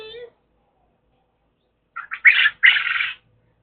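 Baby birds out of their brooder give a few quick high chirps, a short cluster of close, bright peeps after a long quiet gap, following a brief voice at the start.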